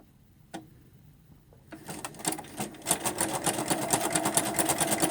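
After a quiet start with a few soft clicks, a sewing machine starts up and stitches a three-step zigzag on quilted fabric backed with wadding, a rapid close rhythmic chatter that grows steadily louder.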